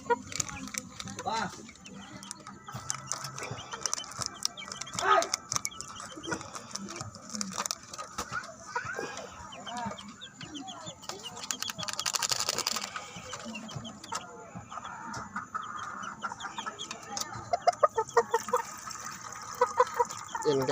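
Pet chickens clucking at feeding time in a backyard coop, scattered soft clucks and calls mixed with rustling and background noise, with a person talking throughout.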